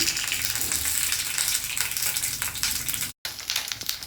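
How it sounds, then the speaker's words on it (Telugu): Okra sizzling in hot oil in a pan as a potato and okra curry is started, a steady dense crackle and hiss that fills the whole stretch, with only a brief gap near the end. "1/2 కిలో బెండకాయలు ముందర వేసుకుందాం నూనెలో."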